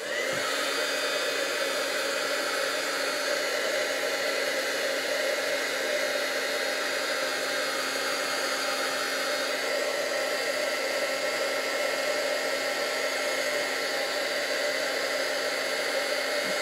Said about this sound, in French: faut que je le fasse chauffer. Pour faire l'embossage.